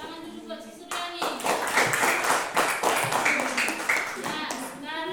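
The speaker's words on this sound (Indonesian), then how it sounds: "tepuk tangan dulu buat si Suryani" A school class claps hands together in a classroom, dense clapping for several seconds, with a teacher's voice speaking before and after.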